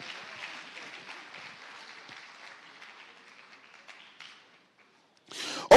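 Conference audience at an autism event gives a faint, distant round of applause that thins out and fades to near silence, followed by a brief loud burst of noise at the very end.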